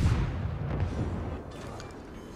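A ship sinking in the naval battle game World of Warships, a muffled low explosive boom and rumble that fades over a couple of seconds, with no speech.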